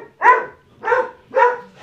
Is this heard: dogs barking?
yes